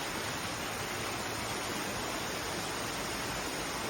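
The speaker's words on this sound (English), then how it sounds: "Waterfall number 2." Waterfall beneath the Perrine Bridge in Twin Falls, Idaho, heard close by as a steady, loud, broadband rushing roar that holds unchanged throughout with no voices over it.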